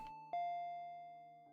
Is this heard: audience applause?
no